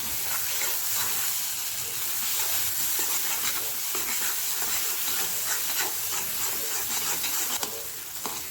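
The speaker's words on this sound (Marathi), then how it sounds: "सर्व हलवून घेऊया आपण." A black masala drumstick curry is stirred in a pan, producing a continuous loud hissing sizzle with soft scraping strokes throughout, close and steady, with no talking.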